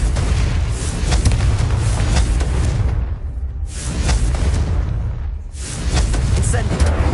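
Repeated Confringo fire-spell blasts in Hogwarts Legacy, loud broadband booms and crackling bursts that fill the frame, with two brief drops between volleys, under a busy game soundscape.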